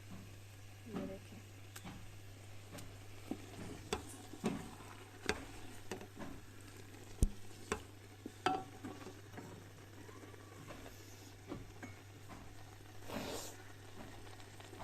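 Milk simmers in a pan in a village kitchen and is stirred by hand, with a faint sizzle under a steady hum and a series of soft clicks and scrapes from the spoon.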